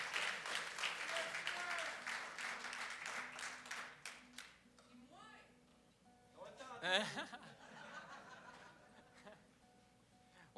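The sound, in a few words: audience applause at a concert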